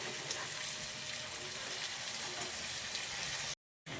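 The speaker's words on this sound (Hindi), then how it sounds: "अब हम इसे मटन को प्याज के साथ बहुत ही अच्छे तरीके से भूनेंगे" Mutton frying with onions in a pot for mutton korma gives off a steady, dense sizzle and crackle that stays even throughout, then cuts to silence for a moment near the end.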